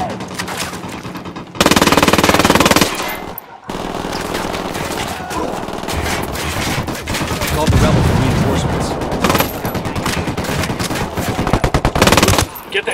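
Loud bursts of automatic gunfire rattle in Ghost Recon Wildlands, sustained rapid volleys coming in several long strings with brief gaps, over game sound and occasional voices.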